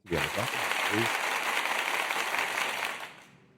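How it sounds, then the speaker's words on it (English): Applause sound effect played during a talk show, a full burst of dense clapping that starts at once after a brief voice, holds steady for about three seconds, then fades out. "There's the applause."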